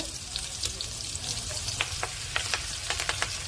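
Fish roe frying lightly in oil in a pan makes a soft, low sizzle, punctuated by a series of brief sharp pops and ticks that grow more frequent toward the end, quiet and close, with no voices.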